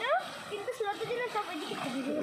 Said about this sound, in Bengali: দেখো পাওয়ারের স্নান করানো শুরু হয়ে গেছে